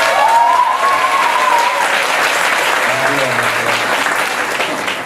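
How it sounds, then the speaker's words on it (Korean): Loud, energetic applause from a church congregation for standing high school seniors, with a voice speaking briefly over the continuous clapping. "고3 격하게 박수."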